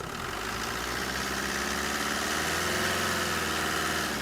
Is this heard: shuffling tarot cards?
no